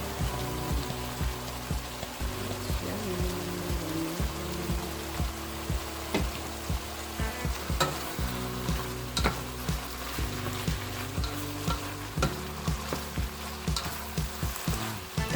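Carrots sizzle and fry in hot oil for Ilocano igado, a steady crackling sizzle close by with recurring stirring scrapes and no talk.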